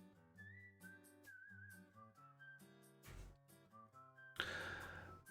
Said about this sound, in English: Turning off the whistling